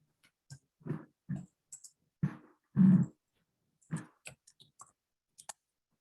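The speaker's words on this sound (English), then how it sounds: "I can hear you clicking in the background." Mouse or keyboard clicking from a computer user during an online accounting-software session, heard as a scattered run of short, fairly close clicks and taps with a few slightly heavier knocks, irregular in rhythm and without talk.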